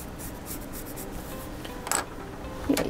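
Pencil drawing an outline on dark paper for a winter scene craft: faint, close scratchy strokes rubbing steadily across the paper, with a couple of slightly sharper scrapes, no talking.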